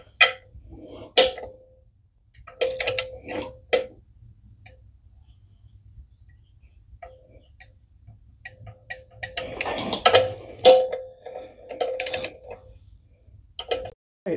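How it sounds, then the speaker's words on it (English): Torque wrench tightening the clutch pressure plate bolts while a Ferrari/Maserati F136 engine is joined to a Nissan transmission, scattered metallic ticks and clicks in short bursts with quiet gaps, close by and with no speech. "the last step here is to torque to 18 foot-pounds for the pressure plate bolts"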